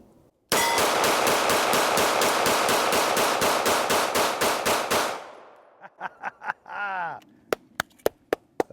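Fusion XP Pro paintball marker firing a long, very fast burst of sharp, loud pops, followed by a few slower single shots with metallic clinks between them.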